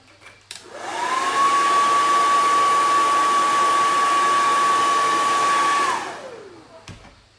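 A hair dryer blows on chalk couture ink, switching on with a rising whine, holding a loud steady whir for about five seconds, then winding down to a stop with a click after.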